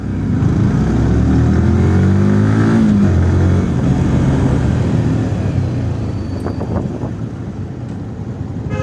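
A heavy BMW adventure motorcycle overtakes on a beach road, its engine droning loud and close over steady road and wind rumble, the tone sliding as it passes and then easing into quieter traffic noise.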